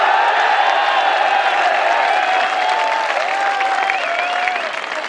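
Sustained applause from the audience at a Hindi comic poetry gathering (hasya kavi sammelan), a dense, steady wash of clapping with some crowd noise, holding loud throughout and easing slightly near the end.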